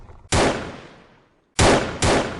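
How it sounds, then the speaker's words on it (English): Three sharp gunshots crack out on a dark road at night outside Lausanne, Switzerland, in 1937, one shot then a pause and two more close together, each ringing and decaying slowly. "Gunshots ring out,"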